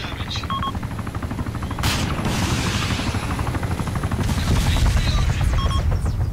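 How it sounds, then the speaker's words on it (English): Rapid bursts of gunfire from the ground aimed at an aircraft, a dense ongoing crackle with a helicopter-like drone underneath and a louder swell near the middle, amid battlefield noise. "Somebody's shooting at him from the ground here."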